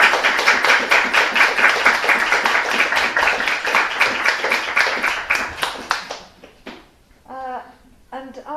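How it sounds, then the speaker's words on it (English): Audience applause at a book launch for the English translation of a Belarusian children's book, honouring its co-translators; dense, steady clapping fills the room for about six seconds, then fades out as a voice begins speaking. "let's give them a round of applause"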